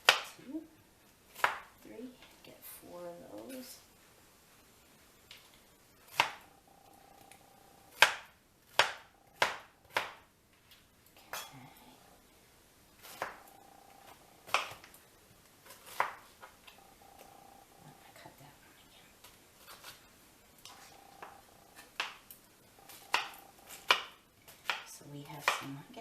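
A knife chops pineapple into chunks on a cutting board, giving sharp, close knocks in irregular bursts separated by short pauses.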